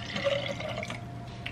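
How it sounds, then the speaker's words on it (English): A reusable water bottle filling from a tap, with steady running water and a faint rising pour tone, close up and with no voices. "I need to fill up my water bottle."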